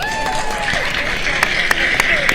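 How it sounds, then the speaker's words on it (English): A live event audience claps steadily for a guest, a broad wash of applause with a few sharper individual claps standing out, while faint tonal sounds drift underneath. "Can we clap it up for Katie, everyone?"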